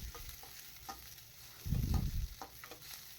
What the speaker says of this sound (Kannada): ಇದು ಸ್ವಲ್ಪ ಎಣ್ಣೆಯಲ್ಲಿ ಫ್ರೈ ಆಗಬೇಕು.